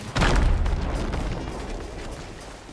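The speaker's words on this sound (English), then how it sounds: "the explosion didn't make enough damage to substantially hurt my ship, aside from take down the mast" Gunpowder kegs blow up in a ship's crow's nest in a pirate video game, one deep, loud boom with a rumbling tail that fades slowly over a couple of seconds.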